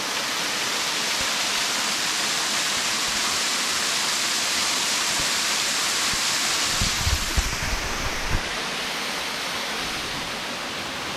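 A waterfall at Black Clough in the Peak District rushes in a dense, constant hiss of falling water. A few low rumbles and thumps come through near the end.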